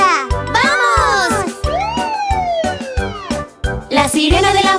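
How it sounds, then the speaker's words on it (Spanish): Ambulance siren in a Spanish children's toy-car song, its wailing tone rising and falling over a bouncy musical backing with a voice singing along throughout. "La sirena de la ambulancia hace wow."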